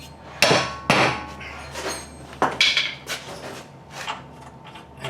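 Hammer tapping a bolt into a Nissan 350z reaction arm, with several sharp metallic taps at uneven intervals, close and clear against a quiet garage background.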